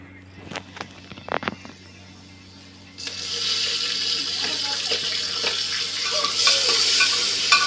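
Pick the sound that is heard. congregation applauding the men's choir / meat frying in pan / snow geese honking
meat frying in pan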